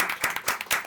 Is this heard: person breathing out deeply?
no